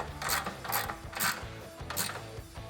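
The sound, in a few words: 13mm socket on 3/8 ratchet tightening bolt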